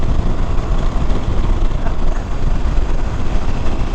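A 2021 KTM 890 Adventure R motorcycle riding at speed around Sonoma Raceway, heard as a loud, constant engine drone blended with heavy wind rumble, steady with brief dips and no speech.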